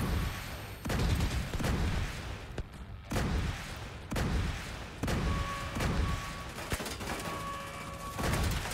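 Gunfire shooting at consoles in the video game Little Huge Gaming Razorback, a series of loud, close bursts and booms in an irregular rhythm, with some ringing electronic tones between the shots.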